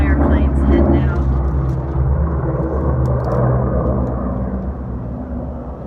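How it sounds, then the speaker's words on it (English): A firefighting plane flies out over Medford, Oregon to drop retardant on wildfires, a loud, steady low droning rumble that holds close and slowly eases, while someone talks over it. "that's one of the fire planes heading out."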